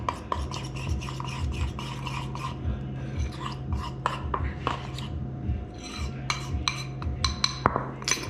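A spoon stirs a crème fraîche and dijon mixture in a bowl, making steady rhythmic scraping and rubbing strokes with light clinks. The sound is close and continuous, with no speech.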